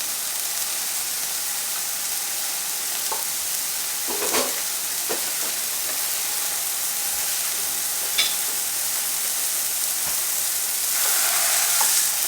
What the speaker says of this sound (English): Pan's hot. Grab a couple pieces of sausage. You can throw these on there frozen.